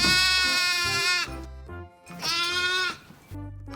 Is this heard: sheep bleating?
yes